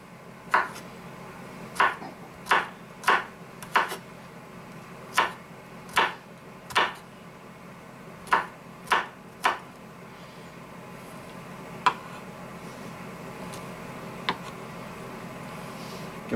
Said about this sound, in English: I've got 5 small cloves, and I'm going to chop them again pretty rough